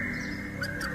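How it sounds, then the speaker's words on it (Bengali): A cuckoo calls outside at dusk, a brief pair of clear notes rising out of a steady background hum, heard at a middle distance. "বাইরে কোথায় যেন একটা কোকিল ডেকে উঠল।"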